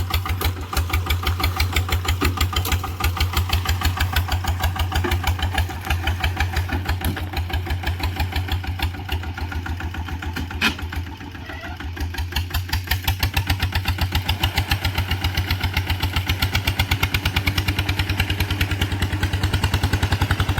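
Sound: diesel engine idling

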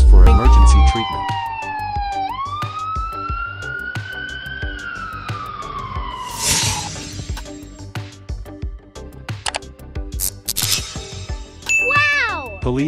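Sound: ambulance siren

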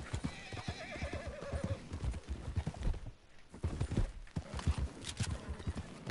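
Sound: horse neighing and hooves, video game

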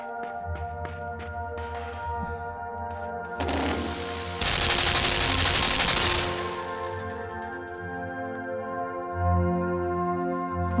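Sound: gunfire in bursts in video game Limbo

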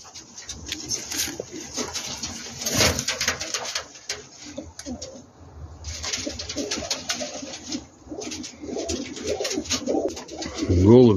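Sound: Uzbek pigeons cooing

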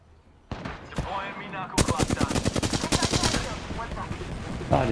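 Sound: gunfire in video game Apex Legends

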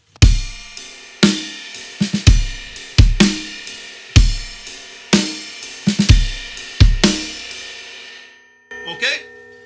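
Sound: drum groove with snare drag

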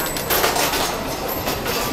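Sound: train riding on rails

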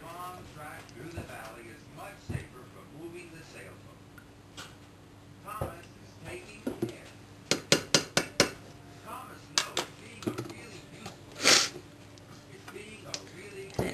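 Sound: stirring melted chocolate and peanut butter in a pot

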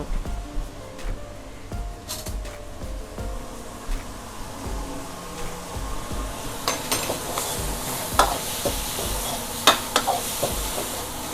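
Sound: stir-frying drunken shrimp (pad kee mao) in a pan

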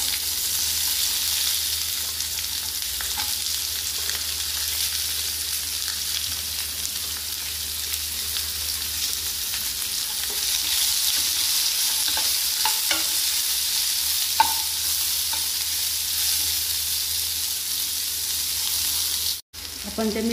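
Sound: onions frying in a pan for egg curry

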